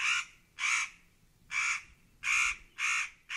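Crow cawing in a steady series of five loud, harsh calls spaced about half a second apart, close and clear with no talk.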